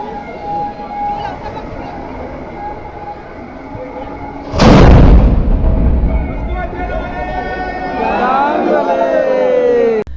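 A ceremonial cannon salute fired at noon at a temple for the new year, heard as one sudden heavy boom midway through, with a crowd murmuring and people talking before and after.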